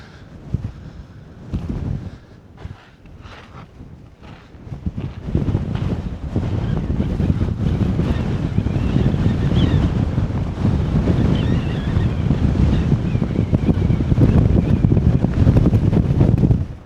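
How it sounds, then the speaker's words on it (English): Strong, steady wind buffets the microphone with a loud, continuous roar that builds after a few seconds and stays gusty throughout. "Hold on to your hat up here, folks. It is windy."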